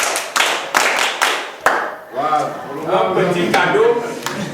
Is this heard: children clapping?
yes